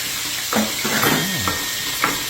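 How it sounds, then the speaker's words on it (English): Garlic and basil sizzle in a pot for a homemade tomato sauce with sausage, a steady close crackle broken by clinks and stirring sounds. "garlic, basil sizzles like it's doing right now"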